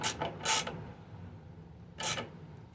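A bolt is tightened on a damaged, neglected push mower during repair, heard as a few short, close ratchet-like rasping bursts separated by a quiet pause, with no talking.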